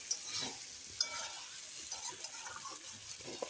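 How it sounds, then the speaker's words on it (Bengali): Potatoes frying with spices in oil for aloo dum give a low, steady sizzle under gentle stirring, with a couple of faint utensil clicks and no talking. "তখন একটু মশলার সাথে কষিয়ে নিই যাতে মশলার মানে আলুর ভিতরে মশলাটা ঠিকঠাক ঢোকে"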